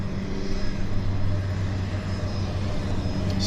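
Light aircraft droning steadily over Vancouver Harbour during a floatplane show, a constant engine hum at moderate distance with no speech.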